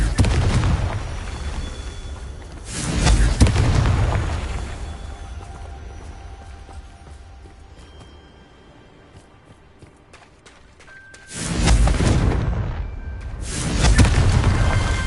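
Confringo fire spell explosions in the video game Hogwarts Legacy: two heavy, booming bursts roughly nine seconds apart, each rumbling loudly before fading, with quieter game ambience between them.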